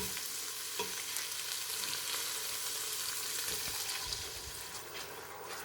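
Onions cooking down in a pan with added water, a close, dense, even sizzle and bubbling that runs steadily throughout, with a single brief word spoken over it.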